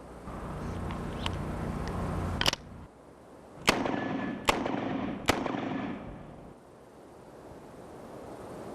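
Four sharp, loud reports from a .44 Magnum Smith & Wesson Model 29 revolver firing 240-grain jacketed soft point rounds, spaced irregularly over about three seconds, each cracking then fading over a low background hum.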